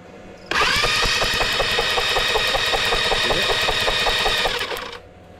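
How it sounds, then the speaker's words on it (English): Loud, fast, evenly spaced snapping of a spark plug firing on a Helix 150 go-kart engine, running continuously for about four seconds before cutting off. "Spark is good, and it snaps one more time"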